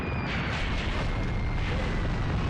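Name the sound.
heavy artillery explosions in the video game Graviteam Tactics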